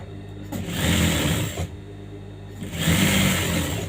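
A sewing machine stitches a princess-cut blouse in close, loud bursts of rapid whirring, running for about a second at a time with brief pauses between runs, with no one speaking.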